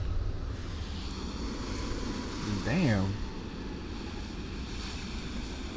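A steady broadband roar as an airplane passes in an Airbus A320 flight simulator on a Cyprus route, fairly faint and constant, with a man's short exclaimed word in the middle.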